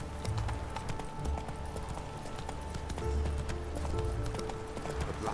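Roach the horse gallops in The Witcher 3, a steady clip-clop of hooves running close and fairly loud over ambient game sound for the whole stretch.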